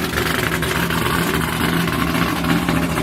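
A modified car engine idling with a steady, loud, throaty rumble and slight lope, close by and unbroken, with no talk over it.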